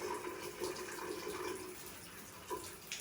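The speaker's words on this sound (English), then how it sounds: "we've got water running in all of the bathroom here" Water runs steadily through bathroom fixtures during a hydrostatic plumbing test, a continuous faucet-like hiss and trickle with a few brief louder splashes.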